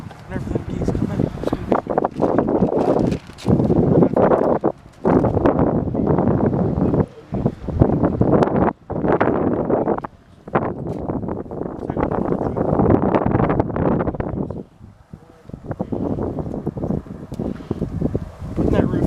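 Wind buffets the microphone at a goose hunting blind during a snowstorm, roaring in loud, uneven gusts with brief lulls, and people talk now and then.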